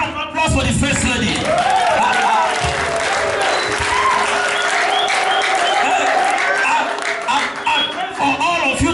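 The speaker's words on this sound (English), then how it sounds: "Somebody give a hand applause for the first lady." Applause from a church congregation honouring the pastor's wife, steady dense clapping filling the whole stretch, with crowd voices and a sustained tone mixed underneath.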